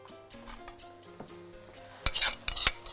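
Sizzling tomato puree being stirred into a hot mixture in a pan with a spoon, soft scraping at first, then louder bursts of sizzle and stirring near the end.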